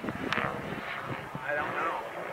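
A radio-controlled model helicopter flies overhead at a fun-fly event, its engine a steady whirring drone at a distance while people talk nearby.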